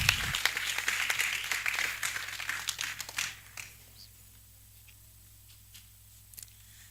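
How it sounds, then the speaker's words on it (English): Conference audience applause rises at once and holds for about three seconds before thinning to scattered, faint claps and near silence. "Matthew Kofi, a round of applause for him."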